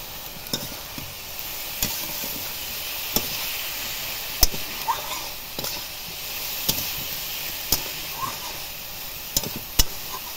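Pointed gourd with garlic and turmeric stirred in a frying pan: a steady sizzle broken by repeated sharp scrapes and clicks of the spatula against the pan, close and at irregular intervals.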